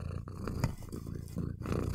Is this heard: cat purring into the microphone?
yes